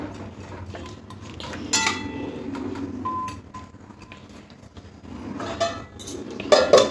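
Spoon scraping and clinking against a metal pot while cauliflower and potato are mixed, then a lid clatters on, close and fairly loud with irregular knocks.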